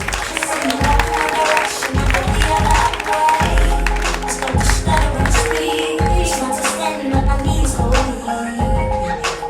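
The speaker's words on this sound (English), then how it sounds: "Everybody clap it up." An audience at a comedy club claps and applauds for comedian Brandon Mitchell, a loud, dense run of claps and cheers over music.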